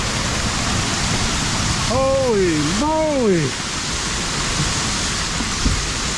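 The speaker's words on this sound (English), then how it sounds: "It's dumping out there right now." Heavy rain roars in a dense, steady wash close by, with a man briefly exclaiming partway through.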